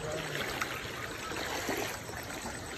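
Floodwater flows steadily in a continuous gurgling, splashing rush, fairly close and without any voices over it.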